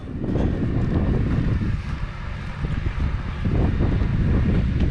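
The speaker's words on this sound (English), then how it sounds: "Get out of the wind here." Steady outdoor wind blowing and buffeting an open microphone, a dense continuous rumble filling the whole stretch and swelling slightly near the end, with no one talking.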